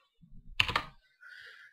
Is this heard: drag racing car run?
no